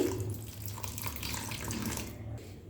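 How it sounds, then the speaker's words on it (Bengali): Water squeezed from leafy greens is poured into a vegetable batter, a short, close, steady splashing trickle with no talk. "শাকটা থেকে চেপে যে জলটা বার করেছিলাম সেই জলটা এখানে দিয়ে দিচ্ছি"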